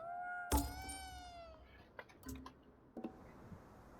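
A cat in the video game Ghostwire Tokyo lets out one long, clear, drawn-out meow up close, followed by a few quieter short clicks and rustles.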